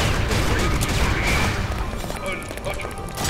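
Rapid weapon fire rattles through a CS Portable zombie survival round, a dense stream of overlapping shots and impacts, loud and continuous throughout.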